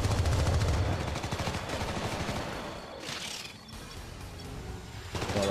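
Dense, loud gunfire from the Syndicate video game, with rapid automatic bursts and heavy impacts forming an almost continuous barrage, a brief crashing burst in the middle.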